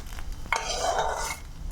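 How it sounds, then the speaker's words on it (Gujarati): Fried okra (bhindi) being tipped out of the pan onto a plate in a home kitchen, with a short clatter of metal utensil against cookware and a brief scraping, stirring rustle close by, no talk. "હવે આપણે એને એક પ્લેટમાં કાઢી લઈશું"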